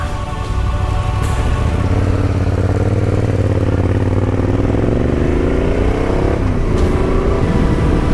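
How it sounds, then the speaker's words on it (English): A motorcycle approaches on a steep mountain road, its engine a loud, steady drone that rises in pitch as it nears, close and continuous, with no voices. "Some bike is coming there."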